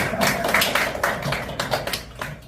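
An audience at a lecture claps in a loose, uneven run of sharp claps over a few seconds, moderately loud and fairly close, with a faint room murmur underneath.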